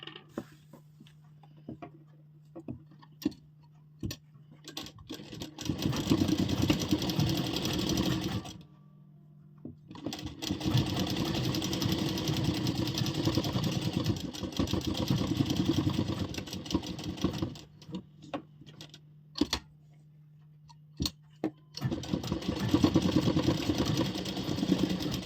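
An electric sewing machine stitches a salwar seam in three long, loud runs separated by pauses, with a steady mechanical whir and a low hum in the quiet gaps.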